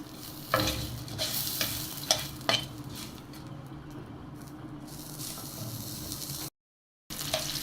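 Cinnamon, cloves and whole spices frying in butter in a pan, a steady close sizzle broken by sharp scraping knocks of a stirring spoon, with a short dropout near the end.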